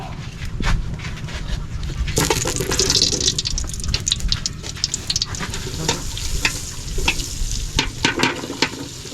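Mussel soup cooking with butter in a pot, a steady sizzling and bubbling with stirring scrapes throughout, louder after the first couple of seconds, close and continuous with no talk.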